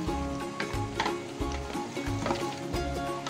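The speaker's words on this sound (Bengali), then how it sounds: "এখন মাংসটাকে ভালো করে নেড়ে দিচ্ছি" Spicy beef being stirred in a hot pan, rhythmic scraping strokes roughly every half second over a steady sizzle, close and fairly quiet.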